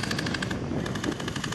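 Airsoft guns fire at an outdoor airsoft game, a dense rapid rattle of shots that runs without a break, loud and close throughout.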